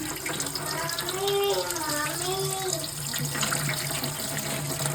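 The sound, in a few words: water running while washing bamboo shoots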